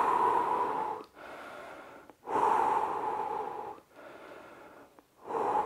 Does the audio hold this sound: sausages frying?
no